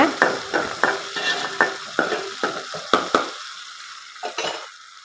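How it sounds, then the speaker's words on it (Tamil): Onions fry in oil in a pot on the stove, a spoon scraping and stirring in a loud, close, regular rhythm of about a dozen strokes over a bright sizzle that thins toward the end. "இப்போது பாத்திரத்தை அடுப்பில் வச்சு கொஞ்சம் எண்ணெய் ஊற்றி வெங்காயம் போட்டாச்சுங்க"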